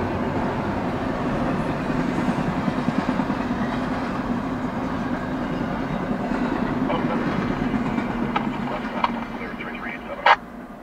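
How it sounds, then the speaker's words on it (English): A CSX IO-17 intermodal freight train with stacked containers rolls past as a steady, loud rumble of railcars, with faint clicks and a few sharp metallic squeaks near the end. "Symbol on that train is CSX IO-17."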